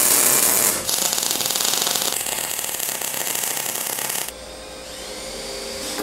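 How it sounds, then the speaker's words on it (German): A loud, harsh drill grinds continuously at close range while drilling holes in metal, shifting in pitch partway through before dropping to a quieter whir. "Hier bohren wir jetzt gleich die Löcher rein"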